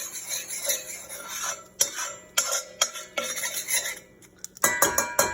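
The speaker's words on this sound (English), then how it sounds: "In our case, we're just cooking in a minute just to get the cornstarch taste out of it." A utensil stirs a cornstarch-thickened sauce cooking in a pot for macaroni and cheese, with repeated scraping and clinking strokes against the metal, close and clear, some faster rattling toward the end, no talking.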